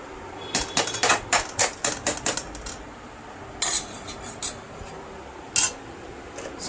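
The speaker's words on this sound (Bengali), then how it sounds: "চলো আমিও ভাত বেড়ে নিই দুটো" Rice served onto a plate with metal utensils at home, a series of quick clinking taps and scrapes in two bursts, close and fairly soft.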